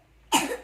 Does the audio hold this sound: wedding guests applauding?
no